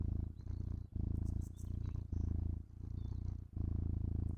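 A person imitates a cat's purr, close and steady, in rhythmic rumbling bursts broken by short breaths.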